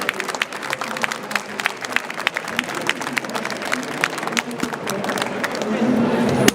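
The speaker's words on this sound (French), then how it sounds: "Applaudissez-le." An audience at a French prize announcement applauds in a continuous patter of clapping, with voices and murmured talk running underneath.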